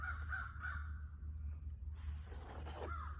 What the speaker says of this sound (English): Did you hear that? That's a crow.